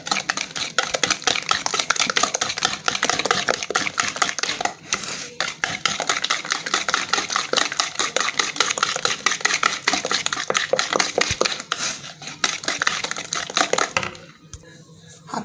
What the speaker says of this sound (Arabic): حطينا السمنه مع الزيت، نضرب بقى كويس كده.